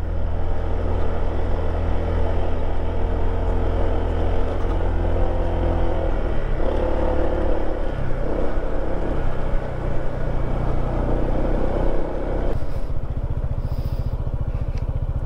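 Motorcycle engine labouring up a steep mountain road to Mount Kilang Pass in the Philippines, a loud steady rumble with shifting tones and wind noise, no talk.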